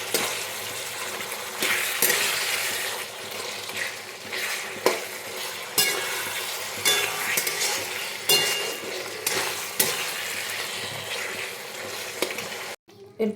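Rohu fish heads with pumpkin and potato cooking in a wok, a spatula stirring and breaking the heads, giving continuous sizzling and scraping with a few clinks against the pan, close and moderately loud.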